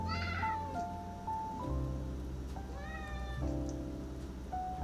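A pet cat named Maui gives a series of close, clear meows, several drawn-out calls with rising and falling pitch spread across the stretch in a quiet room.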